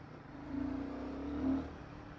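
A Royal Enfield Guerrilla 450 motorcycle engine pulls as it accelerates on a city road, a faint, distant-sounding hum that swells twice and then eases back.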